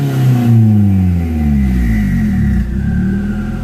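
A car engine revs hard with turbo spool, the loud close rumble sweeping up and down in pitch over several seconds with no talk.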